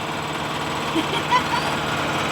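American Airworks dive air compressor, retrofitted from gasoline to an electric motor and run off a generator, makes a steady mechanical drone with faint knocking under brief speech.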